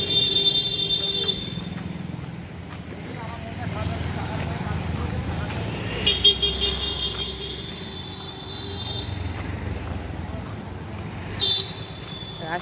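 Busy street traffic passing near a house gate on a road, with engines rumbling close by and a few short car horn toots standing out, under a person talking.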